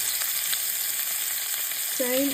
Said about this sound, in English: you're going to saute them in this oil right here